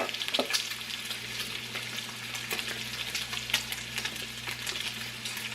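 Bacon and crushed red pepper flakes fry in a soup pot while being stirred, a busy crackling sizzle punctuated by frequent spoon scrapes and clicks throughout.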